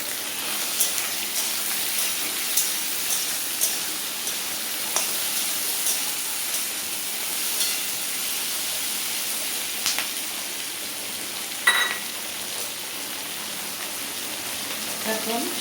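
Eggplant with local prawns and chillies fries in a pan, a loud, dense, steady hiss of sizzling oil with a few faint clinks and one brief scrape, heard up close with no talk.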